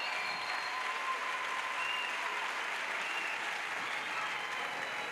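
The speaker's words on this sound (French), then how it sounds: "Acclamation à Jésus-Christ. Clap to Jesus." A church congregation at a crusade gathering in Douala applauds and acclaims Jesus Christ with steady, dense clapping from a large crowd, continuous and loud throughout.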